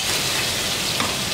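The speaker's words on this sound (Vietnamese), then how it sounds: "Rồi xong chúng ta sẽ cho cà chua vô." Tomatoes tipped into a pan of fried garlic set off a steady, close sizzle of frying that holds at an even level for a moment, with no voices.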